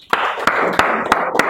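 Several bursts of group applause for a student during an Informatics class, each a short sharp flurry of claps spaced about a third of a second apart, loud and close in the room.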